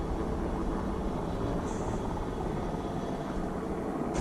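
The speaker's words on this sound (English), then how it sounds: "Hear a helicopter." A helicopter drones steadily overhead, a faint, continuous rotor and engine hum that stays even and distant throughout, with no voices.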